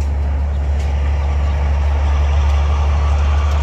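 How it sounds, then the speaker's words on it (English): A truck rolls by close to a parked RV, a steady, heavy low rumble of engine and tyres that stays loud throughout the short stretch with no voices. "Noisy truck going by."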